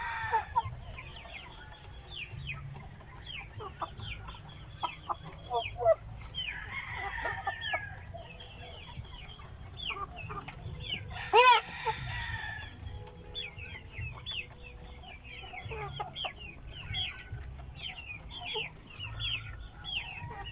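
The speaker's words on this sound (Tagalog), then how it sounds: "Yung isang Rhode Island natin na rooster mga kaputak, pure na Rhode Island na yan." Free-range chickens cluck and call steadily in a farmyard, with a Rhode Island Red rooster crowing loudly midway through, over a constant low background hum.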